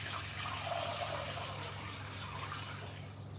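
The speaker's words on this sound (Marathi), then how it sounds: "आता आपण याच्यामध्ये पाणी टाकणार आहोत." Water pours steadily and rushes into a large pot over washed semolina, a continuous wash of sound with no one talking.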